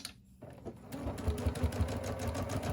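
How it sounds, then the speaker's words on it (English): A sewing machine stitches along the folded edges of a fabric inside pocket on a holdall bag, a quiet start then a fast, even mechanical chatter of needle strokes at close range. "we're going to stitch to the fold along both edges to create the pocket"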